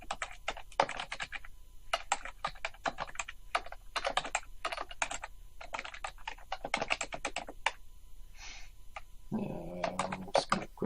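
Rapid typing on a computer keyboard while entering an address into a WordPress property listing form, close sharp key clicks in quick uneven bursts, with a brief different rustling noise near the end.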